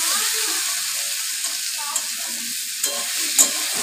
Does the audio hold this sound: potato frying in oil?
yes